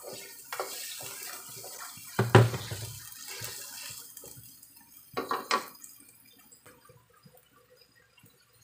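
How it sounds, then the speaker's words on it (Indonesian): Water is poured into a cooking pot while making noodle soup, giving a few short splashing pours with a louder gush near the start and another brief one midway, otherwise quiet. "Masukkan air."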